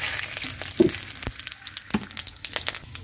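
Bay leaves, cardamom, cinnamon, cumin seeds and sugar frying in hot mustard oil give a steady close crackle and sizzle with scattered sharp pops.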